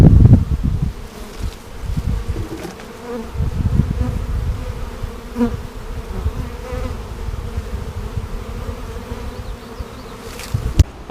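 A honeybee swarm in a bee yard fills the air with a dense, continuous buzzing, close and steady for the whole stretch with no voices over it.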